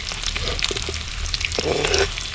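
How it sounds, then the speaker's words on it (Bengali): Plain paneer cubes fry in hot oil with no salt or spices, crackling and popping densely in a continuous near sizzle with scattered sharp spits. "শুধু তেল দিয়ে ভেজে নিচ্ছি"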